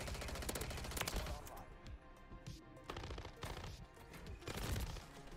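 Gunfire in the Modern Warfare 3 video game, shots coming through walls: dense, continuous rapid gunfire with sharp individual cracks and heavy layered bursts, loud throughout.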